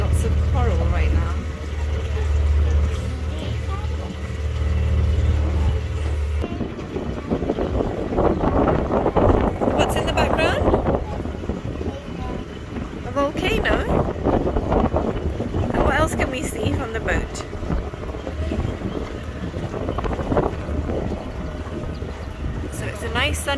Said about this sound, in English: And we're on a glass bottom boat.